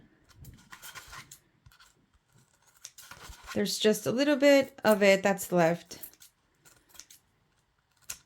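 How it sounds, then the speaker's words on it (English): Scissors snip through a foam sheet in short bursts, close by, with a person speaking over part of the cutting. "with your scissors, once you let that glue dry, just go around and cut the extra foam sheet"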